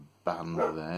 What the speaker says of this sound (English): Excuse my dog barking at the children